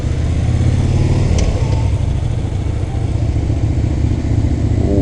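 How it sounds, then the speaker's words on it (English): A motorcycle engine in London traffic, loud and close, with a steady, throbbing rumble and brief shifts in pitch as it revs. "I'm not saying rev your engine at absolutely everybody"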